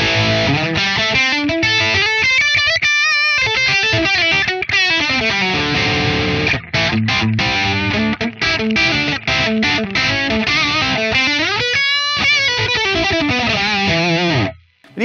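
Electric guitar with a wide, stereo-widened reverb tail, notes blooming and spreading into a spacious wash, played continuously and loud with no talking.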